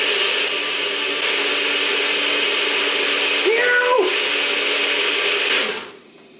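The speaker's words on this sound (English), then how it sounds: "And goes onto my blender. I am going to blend it for 30 seconds." A blender blending wheatgrass whirs loudly and continuously, its pitch shifting briefly mid-run before the motor winds down and stops.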